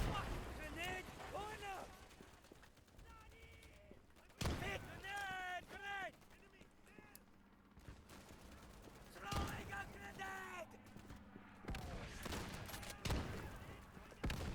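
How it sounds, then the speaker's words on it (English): Sharp blasts and gunfire crack out in a World War II shooter set in the Cassino campaign, with several loud bangs spread across the stretch and sporadic firing between them, while someone talks over much of it. "Right, well that's a nice swarm of grenades."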